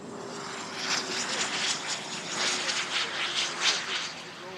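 Airliner engines roar steadily through a takeoff run at Toronto Pearson Airport, a broad continuous rumble and whine that holds loud and fairly near from start to finish.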